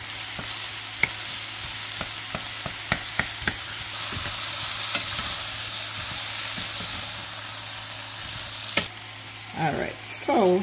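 Butter sizzles and crackles steadily in a hot pan with shell-on shrimp for a spicy seafood dish, a constant close frying hiss broken by a few sharp pops and clinks near the start and some stirring scrapes at the end.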